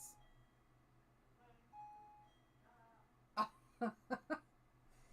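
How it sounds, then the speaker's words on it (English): A doorbell rings several times in quick succession during a home drawing session: short, bright, fairly loud tones after a quiet stretch with faint background sounds. "he hit the doorbell."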